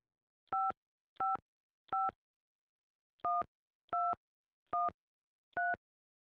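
Seven short dual-tone keypad beeps from a telephone as a number is dialed, evenly clipped and clean, in two groups of three and four with a brief pause between, with no voices.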